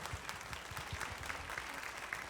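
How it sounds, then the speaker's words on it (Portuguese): Faint, distant applause from an audience at a panel talk, a soft patter of scattered clapping that continues evenly throughout. "Uma salva de palmas, gente."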